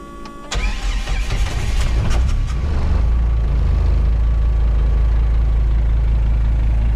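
A Mercedes OM617 diesel fitted in a Jeep cold-starts at about 25°F: the starter cranks briefly, then the engine catches and settles into a loud, steady, rumbling idle with no speech.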